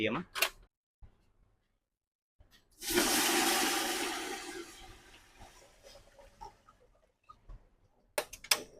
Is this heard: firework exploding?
no